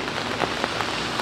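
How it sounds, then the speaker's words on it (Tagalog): Steady rain falling on surfaces, a dense even hiss with scattered sharper drops, close and moderately loud, with no talking. "Ulan na."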